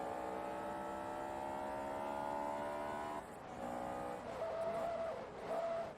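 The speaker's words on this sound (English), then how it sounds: "You can see me wiggling the car as I'm braking" A car brakes hard in Forza Motorsport 2 on a Ferrari club race, the engine whine steady and loud before the revs drop and tires squeal and skid in short bursts near the end.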